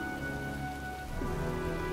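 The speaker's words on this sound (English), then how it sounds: "It's already raining, bro." Steady rain falls in the video game Heavy Rain Remastered, a constant dense patter over a low ambient music bed, with no talk.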